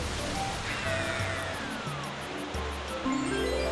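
A waterfall in Super Mario Sunshine pours as a steady broadband rush of water, holding at an even level throughout while a few faint tonal game sounds come and go over it.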